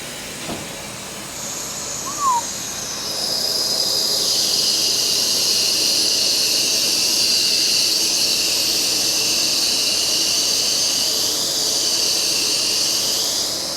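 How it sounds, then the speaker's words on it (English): A vehicle lift lowering off its locks under a DMAX dually truck gives a click and a brief squeak, then a long loud pneumatic hiss that holds steady and eases off near the end. "Lock release, left arm, letting it down, right arm."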